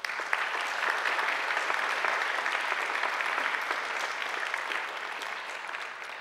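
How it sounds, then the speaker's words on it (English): Steady, dense applause from a large graduation ceremony audience gathered in a courtyard, sustained and even throughout with no voices on top. "I think they deserve a round of applause too"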